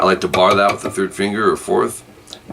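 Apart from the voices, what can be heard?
None of the usual background noises is heard.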